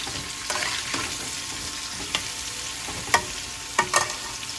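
Bottle gourd sizzles steadily in a hot pan, a shrimp dal in progress, with a continuous broadband fry and a few sharp clinks of stirring near the end, no voices.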